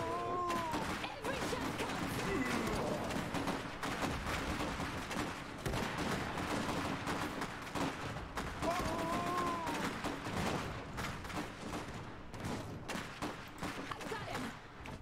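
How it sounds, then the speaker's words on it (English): Gunfire in the video game Iron Harvest, a busy stream of rapid shots and bursts, a constant crackling battle din with scattered louder reports, fairly quiet overall and without voices. "Wojtek just hears gunfire, runs at it like the absolute madman he is."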